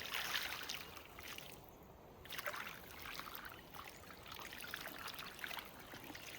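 Water is poured from a container onto a small garden plant in the Finnish countryside, giving a faint, continuous trickle and splash heard up close and alone, with a brief lull partway through.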